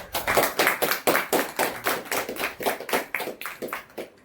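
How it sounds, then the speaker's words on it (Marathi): Applause at a Buddhist garlanding ceremony, with flowers offered to a portrait of Dr. Babasaheb Ambedkar: a crowd claps steadily and evenly for several seconds, fairly close, with no voices over it. "हा माल्यार्पणाच्या वेळेला टाळ्यांचा गजर करायचा."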